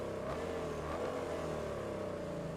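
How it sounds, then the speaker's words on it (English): Car engine in the racing game Test Drive Unlimited Solar Crown, a steady mid-pitched engine drone holding constant and fairly quiet, with no speech. "I love the noise of the SVR"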